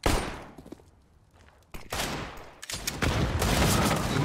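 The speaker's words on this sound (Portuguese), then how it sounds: "Várias balas, acho que acertei dois tiros no cara." Gunfire in the shooter CS:GO: a few sharp shots at the start, a brief lull, then dense bursts of rapid firing that build and continue loudly to the end.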